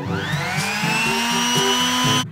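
A palm sander with coarse-grit paper runs steadily and loudly for about two seconds with a high whining motor tone, then cuts off abruptly.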